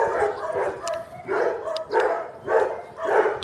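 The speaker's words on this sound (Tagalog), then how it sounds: "ingay ng aso." A dog barks repeatedly in a steady rhythm, about six clear barks at close to moderate distance, with no other sounds competing.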